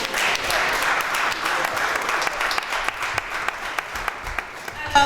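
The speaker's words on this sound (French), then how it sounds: "Alors nous pouvons les applaudir encore une fois." Sustained applause from an audience at an awards ceremony, a dense wash of many hands clapping steadily throughout, loud and close, with a few sharper individual claps near the end.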